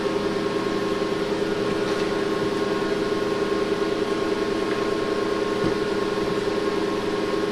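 A ZVS induction heater running at 24 amps gives off a steady, even electrical hum and hiss with a faint high whine, constant throughout with no talking.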